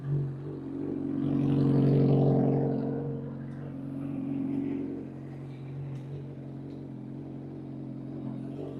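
A Yamaha R1 sport motorcycle with freshly painted fairings rides away, its engine note rising to a rev near two seconds, then easing into a steady drone that fades as it moves off.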